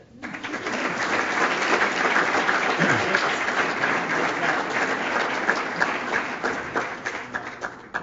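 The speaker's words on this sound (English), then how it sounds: "You can clap." A crowd at a men's soccer awards reception applauds steadily for several seconds, a dense wash of clapping that tapers off near the end.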